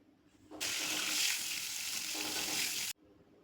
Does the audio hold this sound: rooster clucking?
no